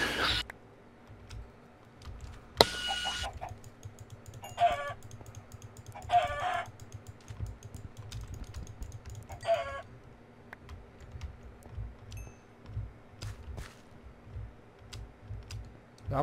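Minecraft chickens cluck in short bursts a few times against a quiet game background, with soft rapid keyboard tapping running throughout and someone speaking briefly.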